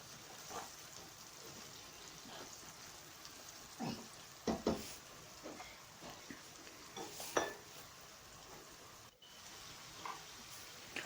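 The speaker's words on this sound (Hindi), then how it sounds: "अब मसाले को जो है वो 3 से 4 मिनट के लिए अच्छी तरह से हम इसे भूनेंगे।" Lamb liver with masala being stirred and fried in a pan: a soft, steady sizzle runs throughout, broken by scattered clinks and scrapes of a spoon against the metal, with no voices.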